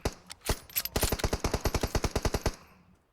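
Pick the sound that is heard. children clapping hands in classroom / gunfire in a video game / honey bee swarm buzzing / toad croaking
gunfire in a video game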